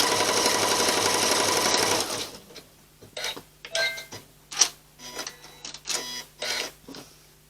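A sewing machine stitches machine appliqué on a Valentine table runner, running in a steady continuous whir for two seconds, then stopping into a string of uneven mechanical clicks and clunks.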